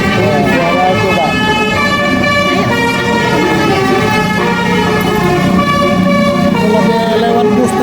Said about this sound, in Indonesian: Lagi lewat bus telolet.